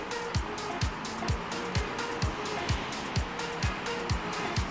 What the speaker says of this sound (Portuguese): E os carros e ônibus passando ali na Asa Sul.